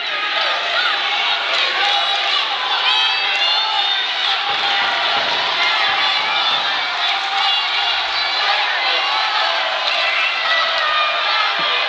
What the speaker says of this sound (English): Absolutely, listen to this crowd.